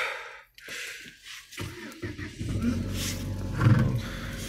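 A Chery Tiggo cranks and fires up from cold after a minus 42 degree frost, a brief hush and rough cranking turning into a steady, loud idle that rumbles close by.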